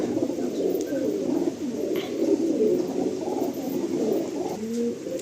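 Pairs of breeder pigeons in a home loft coo continuously, overlapping low rolling calls close to the microphone, with a few faint chirps and a steady room hiss beneath.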